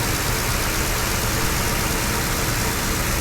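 The engine of a 2009 Crown Victoria police car idles steadily nearby, a smooth continuous rumble with no revving.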